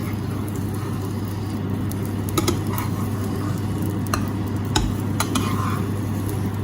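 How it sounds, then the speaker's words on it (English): An omelette sizzling steadily in a frying pan, a constant crackling hiss with a few light clinks and scrapes of a utensil as it is flipped, close-up with no talking. "Now we can flip the omelette."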